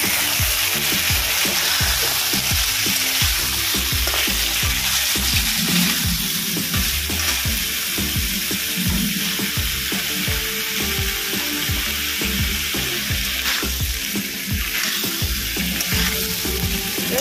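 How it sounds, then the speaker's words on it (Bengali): Cut vegetables frying in cooked-down spice paste for a shukto, a loud continuous sizzle with frequent rhythmic spatula scrapes and stirring strokes, close up and with no voices. "ভালো করে সবজিটা দিয়ে কষিয়ে নেব।"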